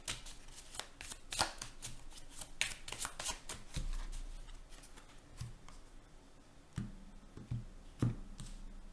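Cards being shuffled by hand, a run of crisp riffling bursts and soft slaps at close range, with quieter gaps between, no voices.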